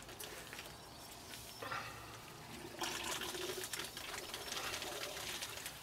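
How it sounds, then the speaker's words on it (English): Water from a hose pipe runs through the bottom hose of a Lotus Elan M100 radiator being flushed, making a steady, faint rushing hiss that grows louder and rougher partway through. "just take a hose pipe, put it in the bottom hose,"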